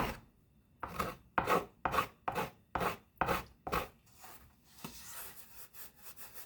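A wooden top plate is thinned with a gouge and small hand planes: about eight crisp rhythmic cutting strokes, close and clear, followed by softer scraping.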